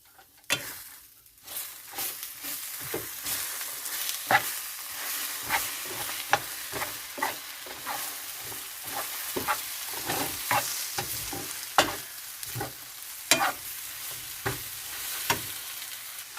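Bitter gourd and egg being stir-fried in a hot pan, with a steady sizzle broken by repeated scraping clicks of a spatula against the metal, close and continuous, with no talking.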